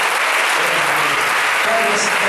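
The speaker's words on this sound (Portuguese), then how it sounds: "E aplaudam ao Senhor." A church congregation at a Portuguese-language evangelical service breaks into dense, sustained applause that fills the whole moment.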